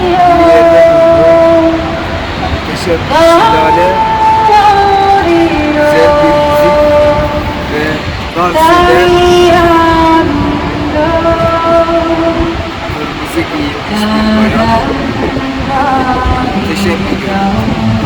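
Steady rumble of a moving train in Norway with harmonic horn-like tones, while people talk in Turkish over the ride throughout.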